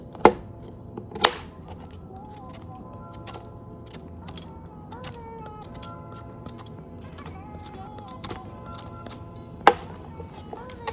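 A knife chops through a firm tapioca root on a board, sharp separate cuts at irregular intervals, with faint background tones between strokes.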